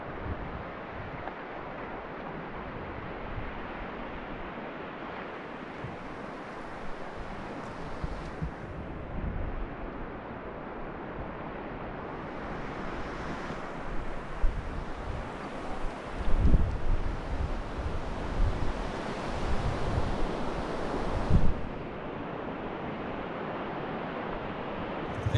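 Surf washing onto a beach in Brazil, a steady broadband rush of breaking waves with wind buffeting the microphone, swelling louder in a few surges midway and near the end, with no voices.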